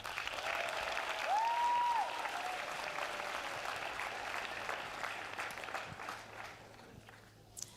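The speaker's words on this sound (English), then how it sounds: "One more round of applause for Matt Camp." A school audience at a high school signing day claps together in sustained applause for a departing student, steady and fairly loud at first, then slowly thinning out toward the end.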